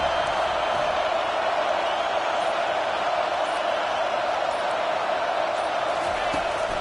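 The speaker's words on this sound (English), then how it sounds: "The roar of the crowd trying to fuel this defense to keep them pinned in their own end" A stadium crowd at a football game roars in a steady, loud, unbroken wash of noise that holds level from start to finish.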